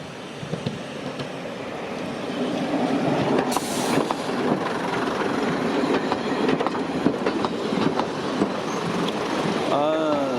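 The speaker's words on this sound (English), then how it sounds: "It's an old boiler, or old diesel train." A 1960s diesel heritage train runs on rails between Bodiam and Tenterden, its wheels clattering rhythmically over the track joints with a rising rumble and a squeal of wheels near the end.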